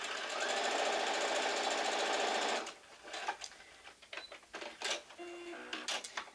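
A sewing machine stitches a quarter-inch seam on a quilt block, running in one steady continuous burst for a couple of seconds before stopping, followed by scattered small clicks and handling taps.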